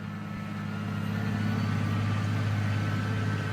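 A tractor engine in Farming Simulator 19 hums in a low, steady idle-like drone, close and continuous with no talk over it.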